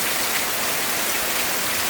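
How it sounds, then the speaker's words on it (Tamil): Heavy rain pouring down on a farm field, a loud continuous dense hiss of downpour with no breaks and no voices. "சரியான மழை பெய்யுது"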